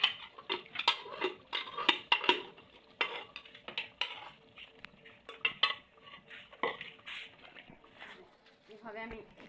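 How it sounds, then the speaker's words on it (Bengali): Beef being stirred and sautéed in a kadai, with a utensil scraping and clinking against the pan in quick, irregular strokes at close range, plus steady background sizzle. "এভাবে আমি কষাতেই থাকবো"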